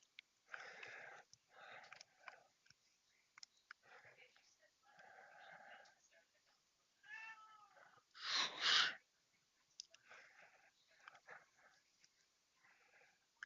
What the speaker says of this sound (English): My cat's saying hello